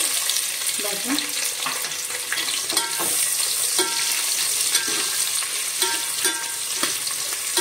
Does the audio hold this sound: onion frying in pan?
yes